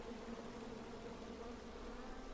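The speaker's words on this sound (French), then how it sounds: "À moi, les abeilles!" Bees buzz in a steady, continuous drone throughout, a loud even hum from a hive in the King's Quest adventure game with no talking over it.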